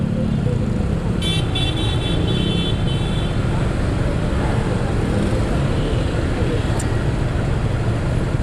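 A vehicle rumbles past on a road amid steady wind noise, with a short horn toot partway through.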